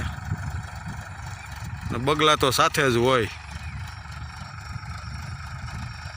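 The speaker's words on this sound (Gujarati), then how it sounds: "જો ટ્રેક્ટર હાલે છે" A tractor engine runs on a farm field, a steady low idling drone that continues throughout while someone speaks briefly over it.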